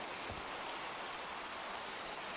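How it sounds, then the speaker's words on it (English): Steady hiss of rain falling in a video game, a continuous dense wash of droplets at even level with no pauses and no other sounds. "Oh, and it started raining."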